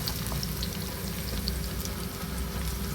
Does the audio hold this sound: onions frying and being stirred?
yes